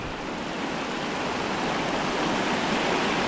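Rough river water rushes through a deep hole in a snow-covered Ohio stream, a close, constant roar of turbulent flow with no voices.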